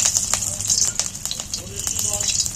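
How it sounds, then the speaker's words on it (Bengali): Three or four garlic cloves fry in a little hot oil in a kadai, crackling with a steady sizzle dotted with quick pops and spits throughout. The frying is close and moderately loud. "রসুন তেলের মধ্যে তুলে দিচ্ছি।"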